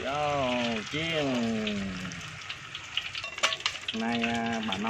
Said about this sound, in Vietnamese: Bỏ chảo lên chiên đi.